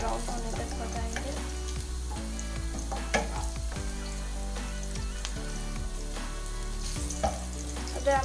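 Chicken fries in a pan with ginger garlic paste, sizzling and crackling steadily throughout, with occasional sharp clinks of a spoon stirring against the pan.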